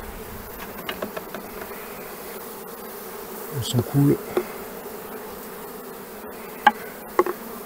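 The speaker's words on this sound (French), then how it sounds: "Il y a des abeilles, quand on les brosse, elles s'énervent." Honeybees buzzing around a converted Langstroth hive as they are brushed off the frames, a steady agitated hum with a few louder close passes, while a person talks briefly.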